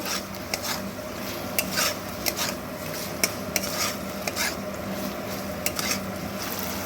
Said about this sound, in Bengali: ভেজে রাখা মোমোগুলো দিয়ে এর সঙ্গে পুরো ভালো করে টস করে নেব